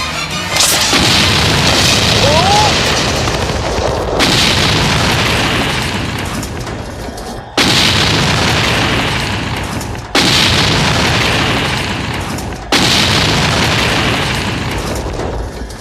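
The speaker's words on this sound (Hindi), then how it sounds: "अरे ये क्या, हमारी ही गाड़ियाँ उड़ गई?" Vehicles blow up in a Hindi-dubbed action film: a series of five loud, heavy explosions, each a sharp boom that rolls into a long fading roar, arriving every few seconds.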